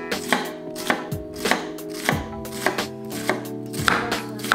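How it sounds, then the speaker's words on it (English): A knife dices an onion finely on a cutting board, a steady series of about a dozen crisp, close chops in an even rhythm with no voices. "So then you're gonna turn the onion and you're gonna go really nice small dice like this"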